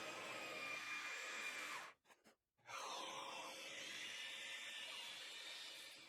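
A jigsaw cuts steadily through a cracked piece clamped down, its high buzzing whine holding at close range, stopping briefly with a few short bursts, then resuming its sustained cut.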